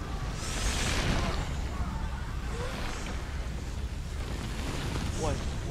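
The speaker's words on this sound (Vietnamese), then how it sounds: "Gió to thế." Strong wind gusting in Hellblade: Senua's Sacrifice, a continuous low roaring rush that swells and eases, with a person talking faintly over it.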